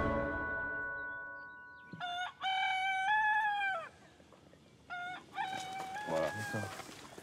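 A rooster crows clearly and nearby in two long drawn-out calls, following a softer fading tone and followed by a brief cluck-like sound against a quiet background.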